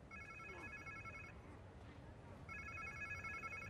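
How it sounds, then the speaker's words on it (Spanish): Telephone ringing in Marvel's Spider-Man 2, a repeated electronic ring that sounds in two bursts with a gap between them, fairly clear over low background game ambience. "Parece un teléfono."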